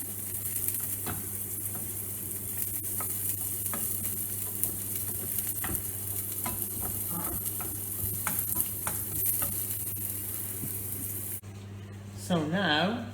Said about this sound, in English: what we're going to do with the saucepan is we are going to fry our onions.